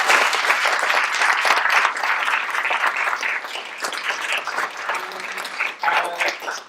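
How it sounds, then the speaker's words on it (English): An audience applauds the panellists at a Legal Cheek event, steady dense clapping that thins out and wavers toward the end, with a faint voice emerging. "a round of applause for the panellists"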